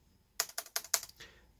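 Keys clatter on an old ThinkPad laptop keyboard in a quick burst of about five crisp clicks, close and fairly quiet, with no talking.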